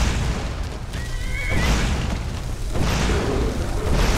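A horse whinnies in the Skyrim video game on a mountain path, a brief high neigh rising out of heavy rumbling and booming game noise that runs throughout.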